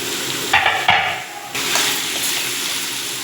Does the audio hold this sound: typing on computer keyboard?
no